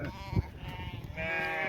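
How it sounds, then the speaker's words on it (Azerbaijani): A flock of about 240 sheep, many of them pregnant ewes, bleating close by; a loud bleat rings out early, then a sustained chorus of overlapping calls rises toward the end. "240 qoyunun 120'si balalıdır."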